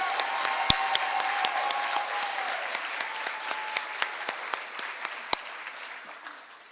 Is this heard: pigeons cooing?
no